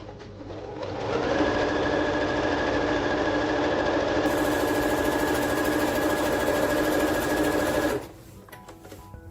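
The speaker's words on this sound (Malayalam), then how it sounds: "ഇങ്ങനെ വെച്ചിട്ട് വീണ്ടും തിരിച്ചു വെച്ച് തയ്ച്ചെടുക്കാം." A sewing machine stitches the corner of a C-shaped kurti neck, running in one steady, close, continuous burst for about seven seconds before stopping.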